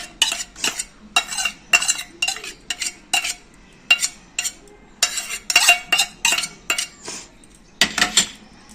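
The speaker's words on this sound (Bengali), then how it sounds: "একটা ব্যাটার করে নেব সর্ষে বাটাটা দিয়ে নেবো বাটির মধ্যে" A spoon scrapes and clinks rhythmically inside a bowl as mustard paste is mixed into batter for fritters, short bursts of stirring repeating close up with brief pauses between.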